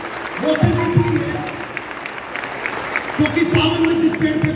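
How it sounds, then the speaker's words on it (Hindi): An audience claps loudly at a Delhi government anti-drug awareness programme, a sustained burst of applause that swells, dips briefly and then rises again, with a voice carrying over it. "एक बार जोरदार तालियां।"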